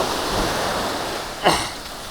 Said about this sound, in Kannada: ಇಲ್ಲಿ ಗಂಟ ಅಲೆ ಹೊಡಿತೈತೆ